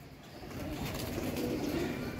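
Pigeons kept by a fancier coo nearby as birds land and settle, soft throaty calls rising over a steady outdoor background, with no talk.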